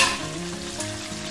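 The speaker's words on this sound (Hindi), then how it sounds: "चिकन ये हमारा फ्राई हो गया है" Chicken pieces sizzle and crackle steadily in hot oil while being fried for tikka biryani, a close, even bubbling hiss with no voices.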